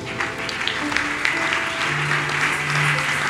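Church congregation applauding, a dense sustained round of clapping at moderate distance with faint tonal hum underneath, no clear speech.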